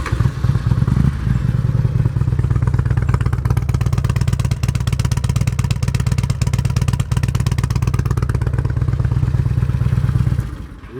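A 2005 Harley-Davidson Road King with Bub exhaust pipes runs steadily for about ten seconds, its deep, loud, throbbing engine note close and continuous before cutting off at the end.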